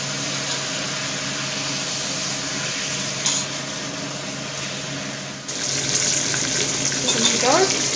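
Steady frying sizzle of meat browning in a pan fills the whole stretch, loud and continuous, with a brief clatter partway through and a scrape near the end.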